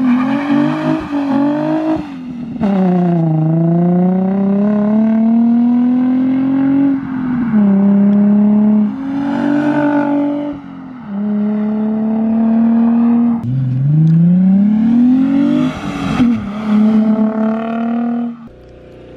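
A Nissan 350Z with an ISR single-exit exhaust revs loudly up close, several rising and falling blips with short idle pauses between them, no talk.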